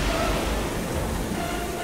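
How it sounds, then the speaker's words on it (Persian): Firefighters spray a water stream into the middle of a fire during a firefighting training drill, a steady hissing rush with a low rumble that stays loud and even throughout, with no voices. "آب رو درست میپاشند به وسط آتیش تا دو قسمت بشه."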